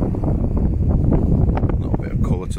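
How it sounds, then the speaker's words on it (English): Strong wind buffets the microphone on an exposed shore at the Point of Ayre on the Isle of Man, a loud rumbling gusty roar throughout the short stretch. "It's quite windy today."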